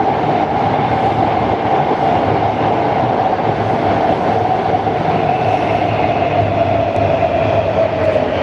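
A Warsaw metro train runs past at night, a loud continuous rumble with steady rolling wheel noise for the whole stretch and no voices.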